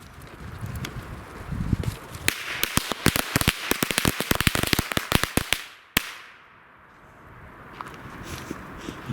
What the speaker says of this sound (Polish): karabinek z praktycznie całej paczki Tiger Thunderów, także odpalamy